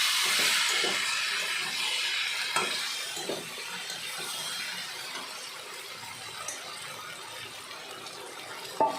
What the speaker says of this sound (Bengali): আবার একটু ঢেকে দিলাম, ঢাকনা তুলে নিয়েছি, একটু নেড়ে চেড়ে সামান্য একটু জল দিয়ে দেবো।